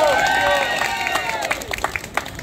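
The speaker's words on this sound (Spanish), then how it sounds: "Fuerte el aplauso para el Indio." Outdoor crowd at a street tango show in a San Telmo plaza gives a round of applause and cheering for a tango performer. It starts loud and dense and thins into scattered claps with some voices in the crowd.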